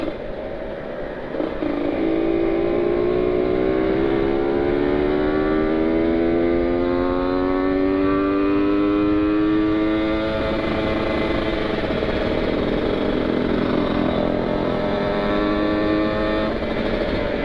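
A Kawasaki Ninja 150 RR two-stroke sport motorcycle is ridden at full throttle on a group Sunday ride, its engine screaming loudly and rising through the revs, close and sustained over wind noise.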